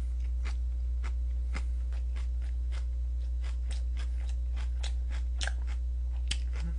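Close-up crunchy chewing of seasoned wild mountain greens (namul) served for Jeongwol Daeboreum, a quick run of crisp bites and chews with no talking, over a steady low electrical hum.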